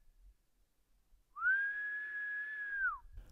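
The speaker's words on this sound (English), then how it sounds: "I whistle up the sun, a slight echo resonating across the vast silent valley below" A single long human whistle, held steady on one pitch for about a second and a half, rings out alone over near-silence in a vast, remote red-dirt valley in outback Australia, with a faint echo.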